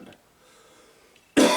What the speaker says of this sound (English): I apologize if I cough a little more than normal.